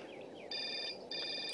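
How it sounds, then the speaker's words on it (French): A phone ringtone in a video game, two short electronic ring bursts in quick succession, clear and alone over a faint background hum. "Mon téléphone sonne."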